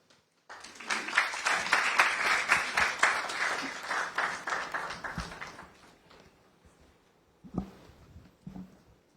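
A burst of audience applause at the launch event of a national science and maths quiz championship, strong at first and then fading to scattered claps, with a few isolated louder claps afterward.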